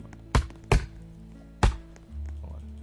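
Axe strikes chopping wood in Roblox Lumber Tycoon 2, with three sharp, loud thunks at an uneven pace over a low engine-like hum that swells at the end.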